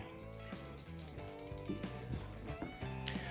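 A pedal wrench tightening a pedal on a 1979 Schwinn Traveler III bicycle, with a continuous ratcheting, clicking mechanical whir up close and no voices.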